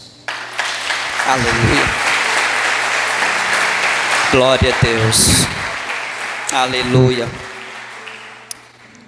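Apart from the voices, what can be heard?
congregation applause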